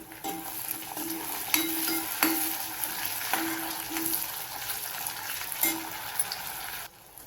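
Tomatoes tipped into a pan of well-fried onions, setting off a steady crackling sizzle with a spoon scraping and tapping against the pan at intervals.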